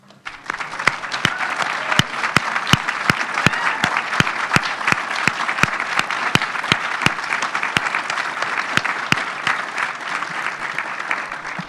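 An audience applauds the student senate at an honors convocation, with sustained, even clapping from a sizeable crowd and a few sharp individual claps standing out.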